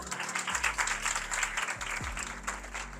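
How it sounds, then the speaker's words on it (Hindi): A seated audience gives a short round of applause, a soft, fairly distant patter of many hands under a low steady hum, with no voices. "सारे दूंगी के लिए तालियां होनी चाहिए।"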